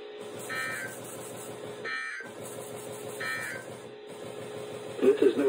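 NOAA Weather Radio alert signal: three repeated bursts of harsh, buzzy digital tones, each separated by a short gap, at moderate level, ending in a brief burst of louder noise.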